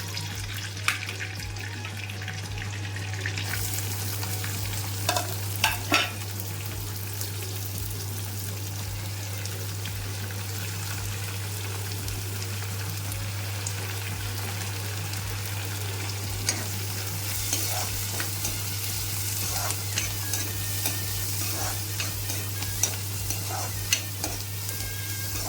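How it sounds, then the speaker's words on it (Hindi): Onions and garlic sizzle and fry in hot oil in a wok (kadhai), a steady close crackle with occasional stirring scrapes and a constant low hum underneath. "तब फिर मैं हर प्याज डालना।"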